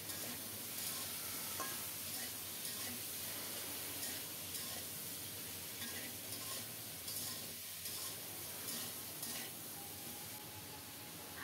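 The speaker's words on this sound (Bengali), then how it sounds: "আলুটা সুন্দর মতো লাল লাল করে ভাজা হয়ে গেছে, এখন লাউর ডাঁটা দিয়ে দিলাম" Bottle gourd stems and browned potatoes frying in a pan, making a steady, dense, hissing sizzle with soft scraping stirs throughout, no voices.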